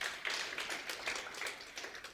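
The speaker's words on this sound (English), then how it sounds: "Let's give them a round of applause." Audience at a women in sport conference claps after a presentation, a soft, steady patter of many hands heard at some distance with no speech over it.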